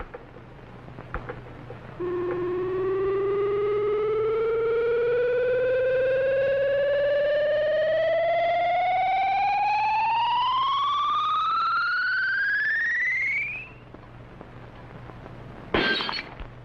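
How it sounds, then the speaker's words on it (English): A loud electronic tone of an ultrasonic ray sweeps steadily upward in pitch for several seconds, cuts off, then a sharp crash of a glass jug shattering follows. "whatever the beam hits will be instantly shattered by the ultrasonic sound wave vibrations"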